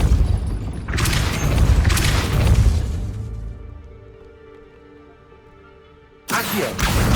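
The Depulso force spell in the Hogwarts Legacy video game lets out a loud, rumbling boom that swells for a few seconds, fades into a ringing, mechanical tail, then ends in a sudden second burst.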